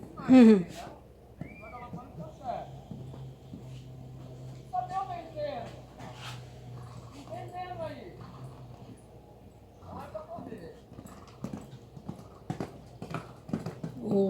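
Hooves of a mare clop at a slow, uneven pace over soft ground during show-jumping training, moderately close, with people talking over them throughout.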